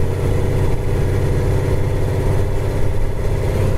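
A 1929 Chevrolet six-cylinder car drives down the road. Its engine hums steadily at close range, with road and wind rumble underneath and no talking.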